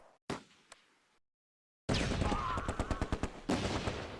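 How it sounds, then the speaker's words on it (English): Tanks firing on an MG42 machine-gun squad in the Close Combat: A Bridge Too Far war game, a sharp opening shot, then a dense rapid burst of automatic gunfire with repeated loud cracks. "The tanks concentrate fire on the MG42 squad."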